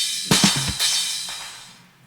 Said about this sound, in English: So together the pre-drop fill sounds like this.